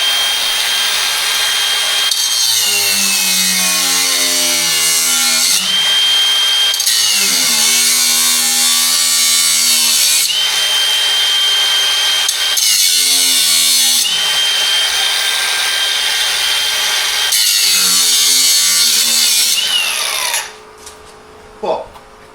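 A power tool saws through an old tie rod end on a Saab 900's front suspension: loud, sustained cutting in several long passes, its pitch sagging under load between brief pauses, before the tool shuts off near the end.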